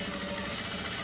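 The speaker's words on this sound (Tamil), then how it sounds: "இப்போது இதோட படிமான தையல் போட்டுருங்க." A sewing machine runs steadily while stitching a blouse seam, its fast, even mechanical chatter filling the whole second without a break.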